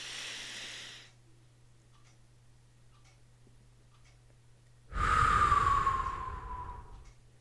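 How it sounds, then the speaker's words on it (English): Slow, deliberate breaths during a square breathing exercise: a soft exhale at the start, then quiet, then a strong, rushing inhale up close that tapers off, with a faint steady hum underneath and no talking. "So, you breathe in and you do this, the square breathing is actually really good."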